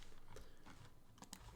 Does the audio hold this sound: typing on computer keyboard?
yes